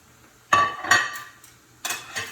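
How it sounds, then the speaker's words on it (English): A ham hock set down into a cooking pot for homemade split pea soup, giving a few short, close knocks and clatters of meat against metal, with a brief pause between bursts. "I'm going to take my ham hock and place this in the pot as well"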